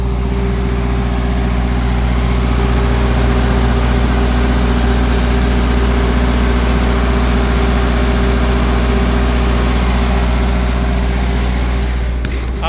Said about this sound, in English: the automatic transfer switch over there automatically kicked in my generator, which it does once a week